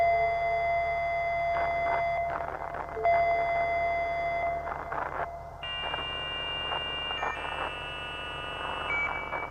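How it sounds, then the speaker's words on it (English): Electronic alarm tones drone and shift pitch continuously, layered beeps changing partway through, steady and fairly loud with no talking. "Okay, more alarms are going off at random intervals."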